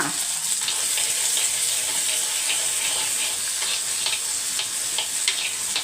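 Small onions sautéing in a pan for village-style chicken curry, a constant bright sizzle with frequent light stirring scrapes, close and even throughout.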